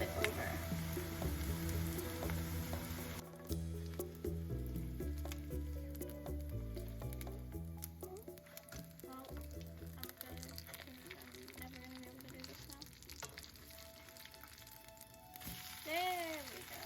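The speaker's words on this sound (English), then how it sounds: "gonna let that fry there for about 5 minutes or until the bottom gets nice and golden brown" Potato pieces fry in a pan as a soft, steady sizzle with faint crackles, quiet and close, heard under background music with melodic notes for most of the time.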